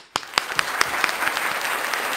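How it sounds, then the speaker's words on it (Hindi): Loud applause from a kavi sammelan audience greeting a poet, opening with a few sharp individual claps that quickly swell into a dense, sustained wash of clapping. "जोरदार तालियों के साथ"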